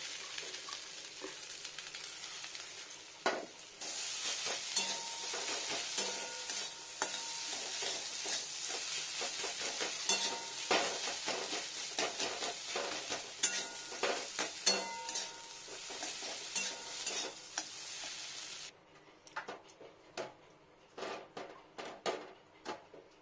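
Sesame seeds and a vegetarian filling are stirred and fried in a pan, giving a steady soft sizzle broken by frequent clicks and scrapes of a spatula against the metal, with the sizzle dropping away near the end.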